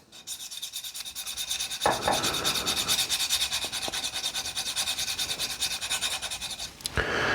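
A knife edge drawn along a sharpening wheel makes a steady, close, rhythmic grinding rub, with a sharper scrape near two seconds and again near seven.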